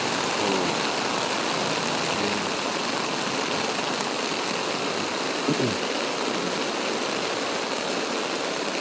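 Steady rain pours down over floodwater in Palaris as a continuous dense hiss, with a brief passing sound near the middle and no speech.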